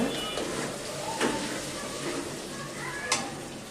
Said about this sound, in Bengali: পেঁয়াজটা আমি ভালোভাবে লাল করে ভেজে নিচ্ছি